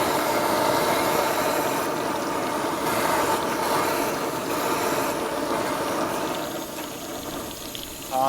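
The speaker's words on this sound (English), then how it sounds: "Is the jet noise from this burner probably." A camping stove burner roars with a steady, loud jet hiss during winter snow camping in Alaska, close and continuous, easing slightly near the end.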